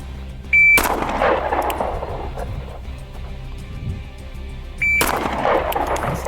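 Two sharp, loud shots from a gun fired in a trigger control at speed drill, spaced a few seconds apart, with a quiet stretch of low background noise between them.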